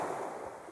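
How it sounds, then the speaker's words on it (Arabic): Sea waves wash onshore on Badis island off Morocco, a brief, steady broadband rush of surf heard up close with no voices. "شعور واعر انك دابا قدام البحر وتسمع هاد الصوت ديالو"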